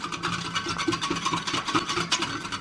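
Steady rhythmic scraping and whisking as a mixture of vinegar, toothpaste and salt is beaten in a bowl, continuous and close, with no voices.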